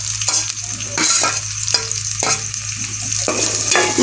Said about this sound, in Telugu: ఇప్పుడైతే కర్రీ ఇది కొంచెం ఫ్రై అవ్వాలి గైస్